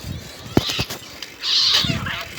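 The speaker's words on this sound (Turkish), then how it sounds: "Gördüğünüz gibi kediler kavga ediyor." Cats fighting outdoors at night, giving sharp yowls and a long, loud caterwauling screech that swells and fades, heard close by over a low background.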